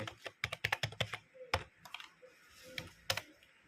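C++ code is typed on a computer keyboard: a quick run of close, crisp key clicks, then a few scattered presses with pauses, loud and alone without talk.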